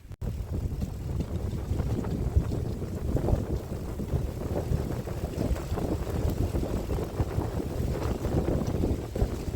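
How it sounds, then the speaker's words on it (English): Strong, steady wind buffets the microphone of a touring bicycle on a long-distance ride through Dartmoor toward Plymouth, a continuous low roaring rush throughout with no talking. "Bloody windy today."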